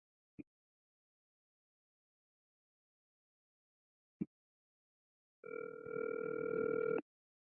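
A telephone rings out on an outgoing call: two short sharp clicks, then a steady tone that holds for well over a second before cutting off, with no one talking.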